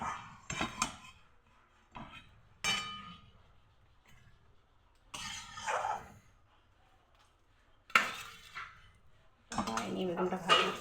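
Dishes, pots and pans being washed by hand, with several separate bursts of clinking and clattering metal separated by quiet gaps, close by and moderately loud.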